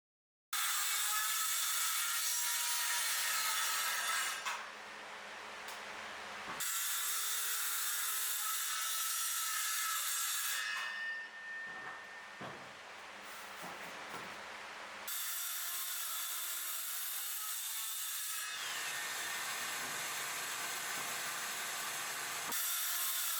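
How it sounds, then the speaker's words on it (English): A skill saw slices round wood cookies into quarters, with several loud, sustained bursts of high whining blade noise up close, separated by short quieter gaps of spin-down and handling. "Since I still don't have access to a miter saw, I used my skill saw again."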